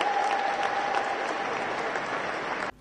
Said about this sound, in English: Let's give him a round of applause for expressing himself.